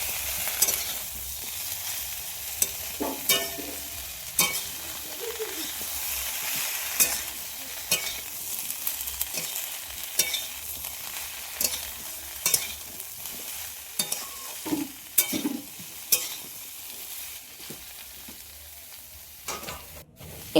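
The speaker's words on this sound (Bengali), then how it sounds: "এরপর দিয়ে দেবো আদা ও জিরে বাটা। দিয়ে সবগুলোকে একসাথে ভালো করে নেড়ে নেব।" Ginger and cumin paste stir-fries in a pan, a soft steady sizzle punctuated by irregular scraping and tapping strokes of a spatula, close and fairly quiet.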